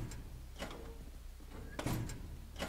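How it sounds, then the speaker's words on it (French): Doors slam in a haunted manor in a Fortnite escape game, with a few faint knocks and bangs spaced apart over a quiet background. A pair of sharper thuds lands close together near the end. "Elle est où la porte qui claque?"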